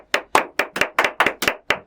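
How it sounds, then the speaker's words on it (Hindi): A few people clap in a radio studio during a chat show, sharp close claps in an even rhythm, around ten distinct strikes with short gaps between them. "जोरदार तालियां"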